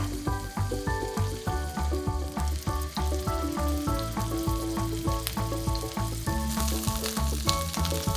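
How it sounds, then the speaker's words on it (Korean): A rolled beef roll fries in an oiled pan, first over medium heat on its seam and then over low heat while being turned, giving a steady close sizzle with soft scrapes and clicks as it rolls. "달군 팬에 기름을 두르고 중불에서 이음새 부분을 먼저 익힌 뒤 약불에서 굴려가며 속까지 천천히 익혀줍니다"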